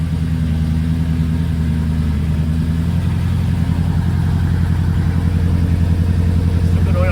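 A 1968 Mercury Cougar V8 idles steadily with a deep, throaty exhaust rumble through long-tube Hooker headers, pipes and mufflers, loud and close for the whole stretch with slight rises in revs.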